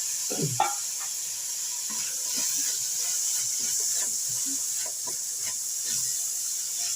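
Crushed masala and tomato sauté in a pan for a country-style chicken curry, giving a steady, close hiss of sizzling with scattered soft stirring clicks throughout and no talking.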